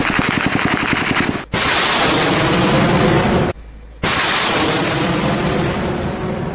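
Burkinabè army artillery firing during a military exercise: very loud, sustained roaring blasts, cut by a brief drop to quiet before the fire resumes at full intensity.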